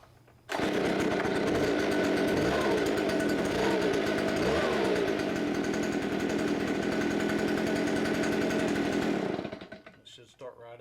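A Stihl BG86 leaf blower's two-stroke engine fires up suddenly and runs at a loud, steady, buzzing roar with a few revving swells, then cuts out and winds down near the end.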